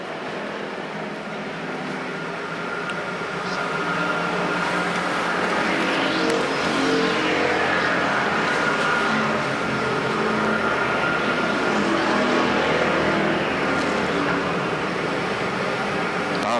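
Factory stock race cars roar around Perris Auto Speedway, engines droning steadily at a distance as cars sweep past in waves, with no talk heard.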